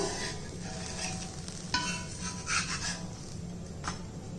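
A weight-loss dosa made with samba wheat and bottle gourd sizzles softly on a hot pan after flipping, with a low, steady hiss and a few light scraping touches close by.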